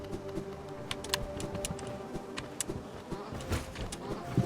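Bees swarm in a video game hive level, a dense, continuous buzzing drone with scattered clicks and sharp hits layered over it.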